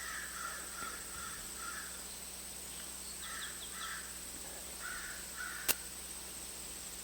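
Crows caw in a series of short harsh calls, some in quick pairs and triplets, at a moderate distance over quiet background hum, with one sharp click near the end.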